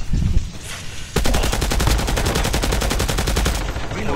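Rapid automatic gunfire in Call of Duty, a few scattered shots giving way to a dense, loud burst of fast, evenly spaced rounds lasting several seconds, with a voice audible underneath.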